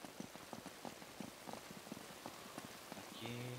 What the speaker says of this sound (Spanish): Esta lluvia que... no es nada buena. No me agrada.